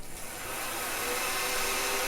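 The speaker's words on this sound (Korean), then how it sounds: "드라이어기를 여기다 써볼까요?" Hair dryer electric attack in the horror video game Silent Hill 3, a steady, loud broadband whirring hiss that holds constant throughout, like a motor blowing air, with no talk.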